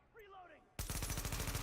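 Rapid automatic gunfire from a weapon in a video game, starting abruptly after a moment of quieter game sound and continuing as a loud, steady burst of shots.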